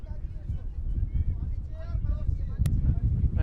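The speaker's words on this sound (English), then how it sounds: "look how windy it is" Strong wind buffets the microphone at an outdoor cricket ground during a masters T20 match, a constant low roar that runs right through, with voices talking over it.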